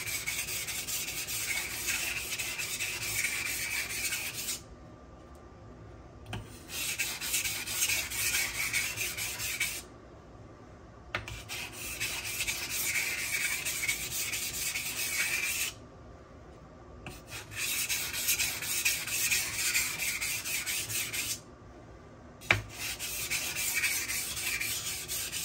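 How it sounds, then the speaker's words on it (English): A knife is drawn over a stone on a Buck Honemaster guide in light burr-minimizing passes. Close, gritty rubbing strokes come in several bursts separated by short pauses. "I do some burr minimization passes"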